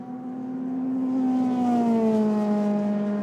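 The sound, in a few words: Euroformula Open race car accelerating at Paul Ricard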